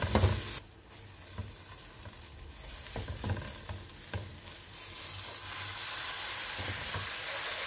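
Chicken pieces with ginger and spices sizzle loudly in a pan while being stirred, crackling and hissing steadily with occasional scraping knocks of a utensil, no talking.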